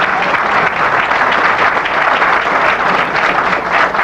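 Dense applause from an indoor audience at an evening lecture, steady and loud for the whole span with no talk over it.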